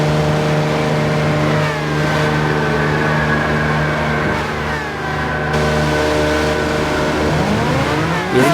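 A McLaren Formula-style race car numbered 99, on fresh soft tires in a racing video game, pulls out of the pits with a loud, continuous engine drone whose pitch shifts slightly through gear changes, heard alone without commentary.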